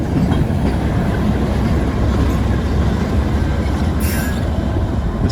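A switcher locomotive rolls past pulling a train up a hill, its idling unit dragged along in a steady, loud rumble of wheels and cars with a brief high squeal near the end.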